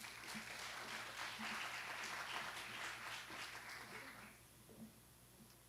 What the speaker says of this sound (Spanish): La recibimos con este aplauso.